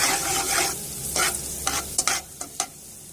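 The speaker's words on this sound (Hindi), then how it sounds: "थोड़ा सा कुकिंग ऑयल लिया मैंने, उसमें लहसुन डाल दिया मैंने" Garlic frying in cooking oil in a pan, a steady hiss of sizzling with several short scraping strokes of a spoon stirring toward the end, close and moderately loud, no voices.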